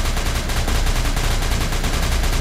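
A guard fires a gun in the video game SCP Containment Breach: a loud, dense, continuous stream of rapid shots, steady and close throughout with no pauses.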